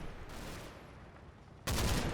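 A Bren gun in Combat Mission: Battle for Normandy fires at a building window, heard as muffled, distant sustained firing followed by a sudden louder, closer burst near the end.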